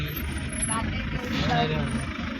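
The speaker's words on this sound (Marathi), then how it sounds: "आता इथे तुम्ही बघू आता ट्रॅफिक कसली लागलेली आहे" Heavy traffic jam with trucks and other vehicles on a road near Kharoshi, with steady engine rumble and brief higher tones throughout, under a close voice talking.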